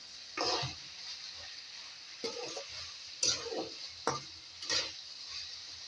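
Tomatoes fry in hot oil, giving a soft steady sizzle with a few louder bursts of stirring or spatter, close and moderately quiet, with no talk.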